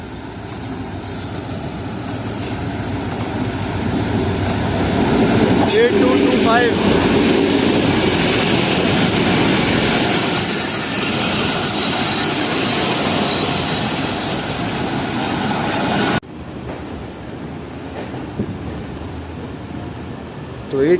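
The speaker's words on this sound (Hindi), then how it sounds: "तो दोस्तों ये आ रही है सामने से KCR की 1 अप ट्रेन और आज इसमें लगा हुआ है HGMU30।" A KCR passenger train led by an HGMU30 locomotive approaches a station on its Karachi run. A steady, loud rolling rumble with wheel and rail noise continues throughout, briefly cut by an abrupt drop near the end.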